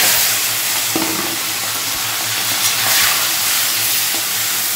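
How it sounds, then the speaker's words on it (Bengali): Prawns sizzle and crackle in hot oil in a home kitchen, a steady close frying hiss with a few stirring clinks and no talking. "তো চিংড়ি মাছটা ভাজা ভাজা করে নিয়ে"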